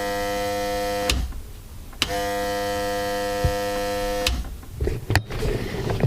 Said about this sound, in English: So, vac pump wired up, switched on.